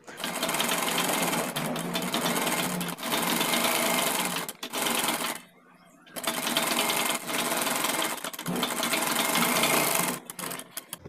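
A sewing machine stitches a shirt collar band, running in steady loud bursts of rapid needle clatter with a short pause mid-way and small stops between runs, close up.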